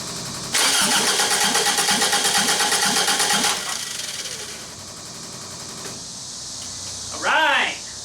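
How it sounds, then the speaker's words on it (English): A Toyota AE86 Corolla's 4AGE engine, fitted with motorcycle carburettors, cranks loudly with a rapid pulsing starter whirr for about three seconds. It then catches and settles into a lower steady idle. A brief whoop of voice comes near the end. "all we're really listening for is for the engine to crank over"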